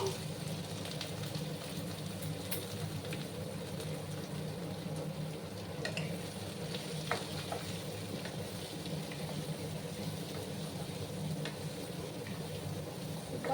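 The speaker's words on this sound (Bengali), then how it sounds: "ঘিয়ার মধ্যে কুমড়োটাকে ভেজে নেবে" Pumpkin pieces fry gently in ghee for a pumpkin khir, a quiet, steady sizzle and crackle with faint occasional stirring clicks, fairly soft throughout.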